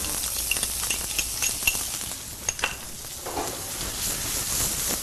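Olive oil sizzling steadily in a pan, heard up close under a loud continuous hiss with a few metallic clinks and scrapes of stirring near the start.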